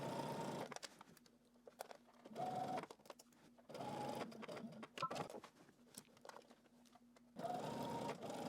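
A sewing machine stitches a dress facing in several short bursts, pausing briefly between runs and stopping for a backstitch, its motor whirring steadily and close at hand with quiet gaps between.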